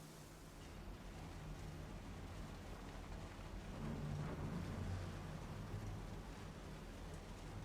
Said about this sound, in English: you can even hear the rain piddling and paddling on all the little metal of the aircraft hangar